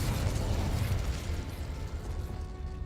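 A Confringo spell blast in the video game Hogwarts Legacy, a loud, rumbling fiery burst that fills the moment and slowly trails off.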